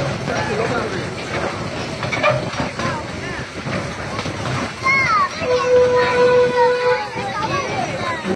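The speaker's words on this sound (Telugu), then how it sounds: "అప్పుడు టాయ్ ట్రైన్ అనేది ఎక్కాము." A slow toy train ride through Cubbon Park in Bangalore, with steady rumbling running noise, a sustained whistle-like tone in the second half and children chattering nearby throughout.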